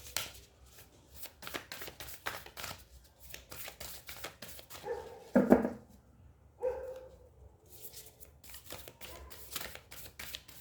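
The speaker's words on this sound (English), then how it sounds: "I'm going to pull out some oracle cards" Oracle cards being shuffled and drawn by hand, with quiet rapid riffling patters in close bursts and a couple of sharper slaps and rustles midway, all soft and near with no talk.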